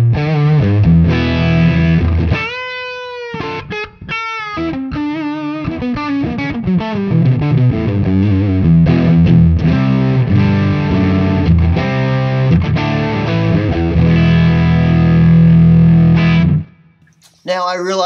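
A Telecaster electric guitar runs through an overdrive pedal circuit with the gain turned all the way up, giving loud, fuzzy, distorted chords and sustained notes that ring continuously before cutting off near the end.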